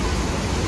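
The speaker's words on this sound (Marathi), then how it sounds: "पर्यावरणाच्या सानिध्यात वसलेला हा धबधबा" Napne waterfall near Vaibhavwadi, set in greenery beside a glass bridge, gives a brief, steady roar of rushing water, full and close with no pauses.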